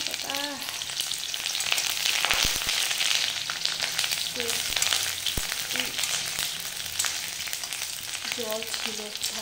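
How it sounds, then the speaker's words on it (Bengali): Dried red chillies and onion fry in very hot oil in a kadai, a loud continuous close sizzle and crackle with occasional sharp spits and clatters from stirring, a few faint higher tones breaking through. "কড়াইয়ে তেল দেওয়া হয়েছে, তেল প্রচণ্ড গরম হয়েছে, শুকনো লঙ্কাটা দিয়ে দিলাম"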